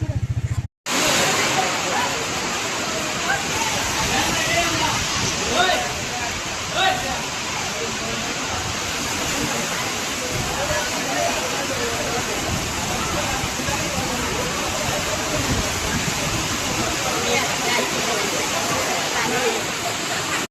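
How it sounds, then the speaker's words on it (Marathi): A monsoon-swollen, flooded river rushes in broadband roar, steady and loud throughout with light rain, after a brief dropout near the start. "हे पहा आमची नदी."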